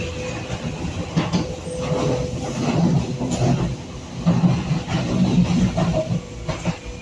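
A DLR light railway train runs along the track, a steady close rumble with rhythmic wheel clatter and faint rattling from inside the carriage, continuous throughout.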